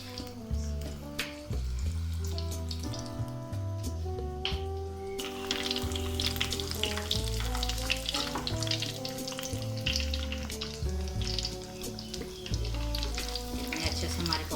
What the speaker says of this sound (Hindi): इसे भी हम फ्राई कर लेते हैं।